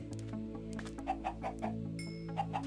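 Minecraft chickens cluck in quick, soft, evenly spaced blips over a low steady game background tone, with a brief higher chime near the end.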